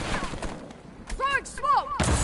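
Call of Duty: Warzone gunfire cracks out in a few sharp, loud bursts, one midway and one at the end, mixed with other game sounds and voices.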